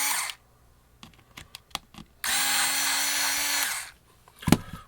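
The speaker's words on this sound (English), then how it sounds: "I'm going to use an electric screwdriver to remove those to make things faster" An electric screwdriver backs screws out of a JBL Charge 3 speaker: a short motor whine, a few light clicks and taps, then a longer steady whine, all close up.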